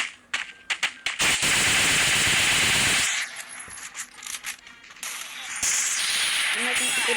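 Rapid gunfire from the Free Fire video game crackles in quick bursts, with a dense sustained rattle of shots and bright game effects, then sparser shots and interface sounds over a steady background.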